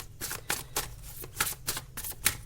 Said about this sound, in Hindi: अपने आप 2 4 5 6 कार्ड्स गिर रहे हैं।